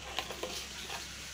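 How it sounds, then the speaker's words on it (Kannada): A spoon stirs betel leaf tambuli with buttermilk just after hot tempering is added, giving soft wet scraping and a couple of light taps, quiet and brief with no voice. "ಚೆನ್ನಾಗಿ ಮಿಕ್ಸ್ ಮಾಡ್ಕೊಳ್ಳಿ"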